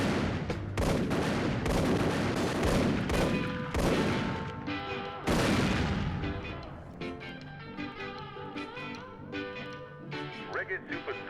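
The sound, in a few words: gunfire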